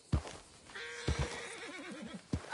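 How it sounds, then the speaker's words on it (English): A horse whinnies in Red Dead Redemption 2, a wavering neigh in the middle of the clip between a few low thumps, fairly clear over quiet ambience. "My horse collapsed."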